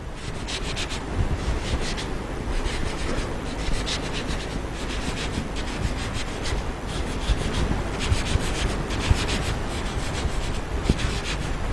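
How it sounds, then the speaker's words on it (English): A steady, close-up rubbing of an eraser across a written surface continues for the whole stretch, scratchy and even with no talking. "And I can erase all the other items."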